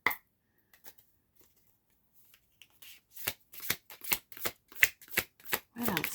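Light Seers tarot cards being shuffled, a few soft isolated taps followed by a series of crisp riffling bursts that grow louder and come close together.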